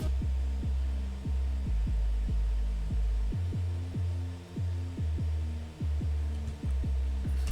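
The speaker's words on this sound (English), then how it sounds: "It's sort of a percussive sub bass." A deep, punchy sub-bass synth pulses in a repeating rhythm, each hit dropping quickly in pitch, loud and close with no voices.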